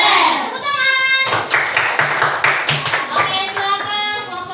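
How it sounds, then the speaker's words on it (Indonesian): Classroom group of children clapping hands together, loud and dense bursts breaking in after a voice, with young voices chattering over the applause and coming back as it thins. "Tepuk tangan."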